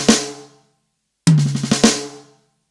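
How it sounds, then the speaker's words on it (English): Drum kit six-stroke roll with its first note on the first tom, in a funk/soul style: a single tom hit rings out and decays, then after a pause a full roll of quick hits starts on the tom and moves across the drums, loud and close. "we're going to put the first note on the first tom."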